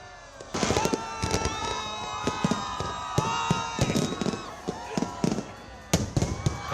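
Colorful New Year's midnight fireworks over an island burst in a rapid run of sharp, loud bangs and crackles, with whistling streaks between, the explosions coming close and far in irregular clusters.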